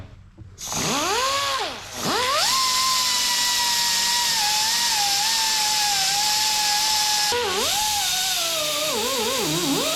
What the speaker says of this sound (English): then drill us a hole so we'll have a new exhaust spring holder